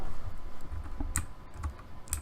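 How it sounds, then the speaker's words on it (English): Arrow keys on a computer keyboard tapped a few times while testing a Unity game, sharp separate clicks spaced irregularly over a faint background hum, close and fairly loud, with no talking. "We have to use our arrow keys still."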